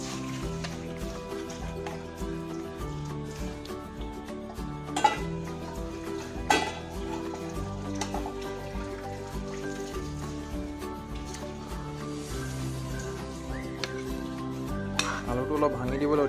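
Boiled potatoes are dropped into a simmering meat curry in a pot and stirred, with steady scraping and light clatter of a spoon against the pot under continuous background music.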